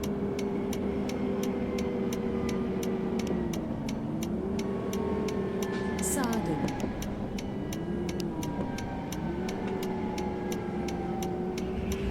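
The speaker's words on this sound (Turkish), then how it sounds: "Şöyle sinyalimizi verelim." Rapid, evenly spaced clicking of a bus turn signal in Bus Simulator Ultimate over a steady engine hum, with pitch dips as the motor shifts.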